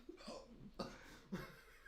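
A man hiccups three times at roughly half-second intervals, each a short sharp gulp, close but quiet, with faint breathing in between.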